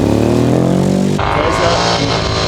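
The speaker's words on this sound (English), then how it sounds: "Twin-cylinder engine out front." A twin-cylinder Morgan racing car at the 2015 Chateau Impney Hillclimb blasts past close and loud, its engine holding a rising note and then breaking into rough, throbbing exhaust roar as it moves on.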